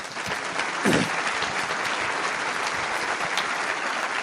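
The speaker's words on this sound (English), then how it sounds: "Let's give them a big round of applause." An audience at a cyber-security forum breaks into a sustained round of applause, dense steady clapping filling the room for the whole stretch with no talk over it.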